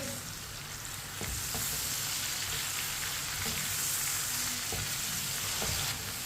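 Chopped tomatoes and green chillies frying with ginger and garlic for chana dal, a dense, steady sizzle close by that swells after the first second and holds, with faint stirring taps.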